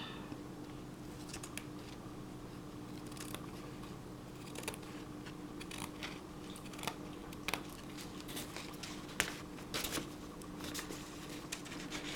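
Scissors snip through paper in quiet, scattered crisp cuts and rustles, close up with irregular pauses between strokes.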